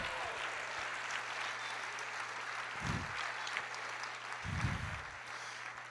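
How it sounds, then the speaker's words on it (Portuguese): A church congregation applauding during a sermon, a steady wash of clapping from a crowd, with a low hum beneath it and a couple of brief muffled thumps. "Aplauda o Senhor."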